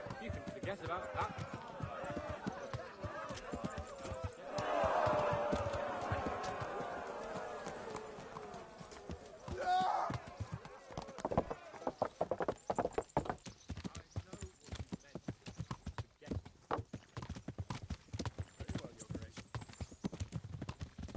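Horse hooves clip-clop steadily while riding in the medieval game Kingdom Come: Deliverance, a continuous close rhythm with talk and game voices over it for much of the stretch.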